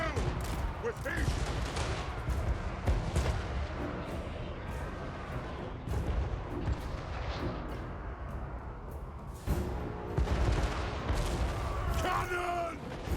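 Heavy, continuous volleys of gunfire crackle through a video game battle, with dense overlapping shots and bursts lasting throughout, and shouting and groaning voices beneath.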